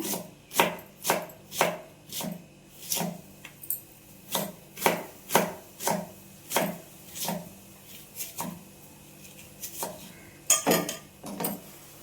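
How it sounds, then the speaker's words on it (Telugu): A knife finely chopping onions on a board, about twenty crisp, evenly spaced chops in a steady rhythm with a brief quicker flurry near the end, close and clear with no talking. "ఆనియన్స్ సన్నలుగా తరుక్కుంటున్నాను"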